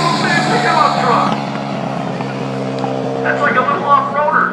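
A small pickup trophy truck races around a track, its engine droning loudly and steadily as it passes, with an announcer talking over the noise.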